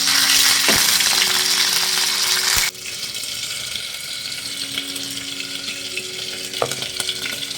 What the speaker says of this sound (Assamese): আনফালে পাতি লৈছোঁ কেৰাহী ইয়াতে মাছটোকো ভাজি ল'ম